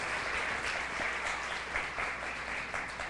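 A church congregation applauds, a faint, steady wash of clapping lasting a few seconds with no voices.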